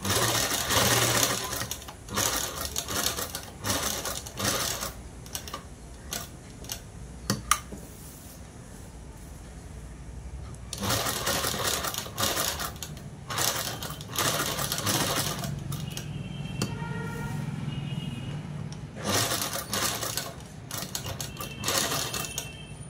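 A sewing machine stitching a four-shape blouse neckline, running in loud rapid bursts separated by quiet pauses and brief clicks, with no one talking.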